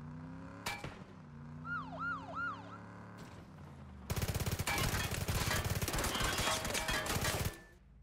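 A police car siren in the video game PUBG wails in rising and falling sweeps, then gives way to a long burst of loud, rapid gunfire from an MP9 submachine gun that ends suddenly.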